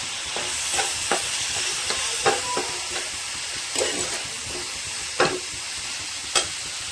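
Ground turmeric, cumin, coriander and salt fry in a pan with a steady hiss, while a spoon scrapes and stirs in sharp, irregular strokes up close; no voices.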